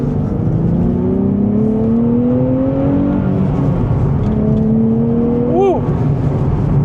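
A twin turbo V6 Nissan Z accelerates hard in second gear, its engine note climbing steadily, dipping briefly, then rising again with a loud steady whir from inside the car.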